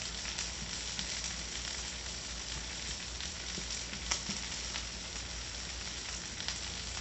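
Eggs sizzling quietly and steadily in a pan while being stirred, a soft continuous hiss with faint occasional ticks and scrapes, no talking.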